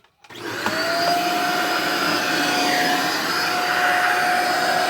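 A household vacuum cleaner switches on after a click and rises into a loud, steady whine at full power, wired directly to the supply, with a sustained high tone over its motor roar.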